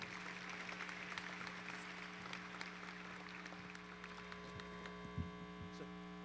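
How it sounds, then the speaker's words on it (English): A crowd gives a final round of applause for high school student athletes at a signing day event, a faint steady clapping over a strong electrical hum. "let's have a final round of applause for our student athletes"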